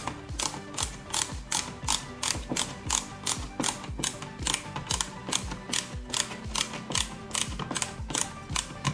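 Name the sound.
screwing in an LED dimmer switch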